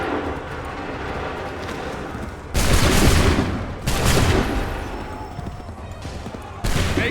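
Musket volleys in Assassin's Creed 3, loud broadband blasts erupting in quick succession with rumbling echoes, set against ongoing battlefield noise and shouted commands.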